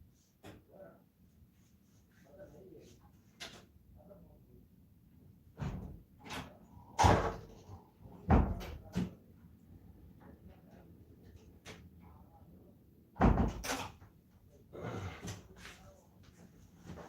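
A door at home opening and closing, heard as a series of sharp knocks and thuds scattered across the stretch, some loud and close, with quiet room noise between them.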